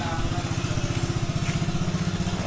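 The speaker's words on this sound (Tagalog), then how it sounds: "kasi ang dami motor dito oh" Motorcycle engines idling at a resort in a steady, pulsing low rumble that stays near and fairly loud throughout, with no talk over it.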